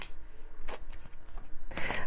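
Tarot cards are shuffled and pulled, making a few short, crisp riffling and sliding bursts up close, the last one longest.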